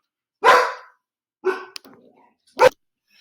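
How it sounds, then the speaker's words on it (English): A dog barks nearby in a home during a guitar lesson: a loud bark, a shorter bark followed by faint whimpering, then a final sharp bark, each separated by brief quiet. "Sorry, it's my dog."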